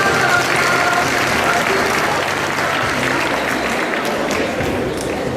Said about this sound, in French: on peut applaudir le cosplay de One Piece